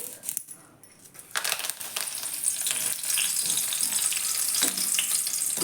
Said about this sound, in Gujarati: હવે એ જ રીતે આ મીઠા લીમડાના પાન આપણે તળી લઈશું